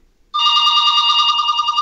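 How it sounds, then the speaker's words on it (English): A telephone starts ringing abruptly with a steady, continuous electronic trill, loud and close, alone without speech. "Oh, that's my phone."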